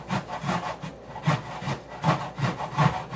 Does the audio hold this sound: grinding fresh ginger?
yes